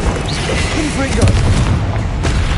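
A Confringo fire spell bursts in Hogwarts Legacy, a booming blast with crackling debris that follows a shouted incantation, close and loud over a rumbling low background.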